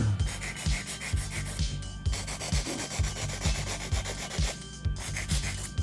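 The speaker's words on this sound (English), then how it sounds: "my 100 grit files" A 100-grit nail file scrapes back and forth over acrylic nails in a salon, a close, steady rasping with regular strokes about twice per second.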